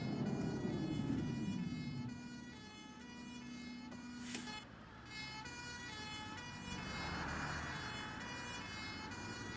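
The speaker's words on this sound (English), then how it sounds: "Go on, fire engine, you can go now." A fire engine siren wails in the OMSI 2 bus simulator on a London estate route, sustained and loud with a low traffic rumble underneath.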